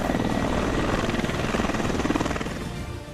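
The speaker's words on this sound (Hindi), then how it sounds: "बोइंग का अपाचे हेलीकॉप्टर जनरल इलेक्ट्रिक के 2 T700 GE 701D turboshaft engine से उड़ता है।" A Boeing Apache attack helicopter, powered by twin General Electric T700-GE-701D turboshaft engines, flies nearby with a loud, continuous rotor thrum and engine roar that holds steady for several seconds.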